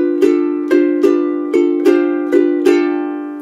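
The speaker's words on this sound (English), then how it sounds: "But we're going to strum it over a G7th chord, so it'll sound like this." Ukulele melody strummed over a G7th chord in a vintage rag tune, six evenly spaced bright strums with ringing harmonics, played alone and close.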